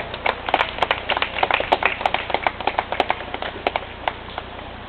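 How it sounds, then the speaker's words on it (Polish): An outdoor audience at a canoe championship in Leśna applauds the competitors, a steady patter of many hands clapping at moderate distance with no voices over it. "Gorący brawa."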